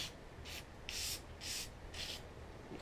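Brake cleaner is sprayed and rubbed onto ATV A-arm parts for a Honda Pioneer 1000, making close, repeated bursts of hissing and scrubbing, about five rhythmic strokes over a low steady background hum.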